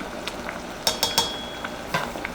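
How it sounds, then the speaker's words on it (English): A pot with bay leaves, thyme and ginger being stirred, giving a soft sizzle broken by a few quick scrapes and clinks of a utensil against the pot, close and brief. "Let's stir this up."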